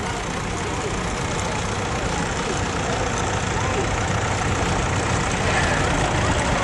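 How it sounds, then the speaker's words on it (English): Vintage tractors roll into the show arena at an outdoor show, a steady loud drone of engines that fills the whole stretch with no pauses. "It's the tractors that came into the arena."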